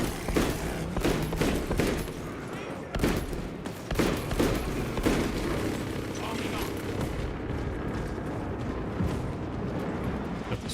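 Heavy bolt pistol fire in a Warhammer 40K video game: sharp, loud shots spaced irregularly over a constant rumbling battle din, with a voice talking faintly over it.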